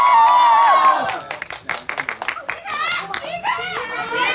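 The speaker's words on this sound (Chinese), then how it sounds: "那我们先把最热烈的掌声和欢呼送给几位" Studio audience at a Douyin live drama-promotion event applauding and cheering loudly, a dense burst of clapping and shouts after a host's voice, continuing under further talk.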